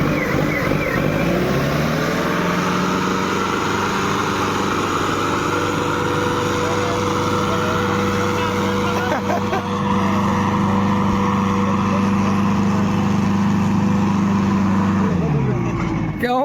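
A tractor engine runs at a tractor tug-of-war contest, a loud steady low drone holding nearly constant throughout, with slight rises in pitch and a drop-off at the end.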